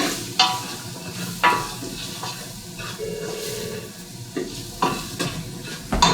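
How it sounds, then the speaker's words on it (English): A roux of flour and bacon fat cooking in a pot for corn chowder gives a low, steady sizzle under repeated scraping and tapping strokes of a spoon against the pot, close by. "we want to cook the roux, the flour taste out of the roux"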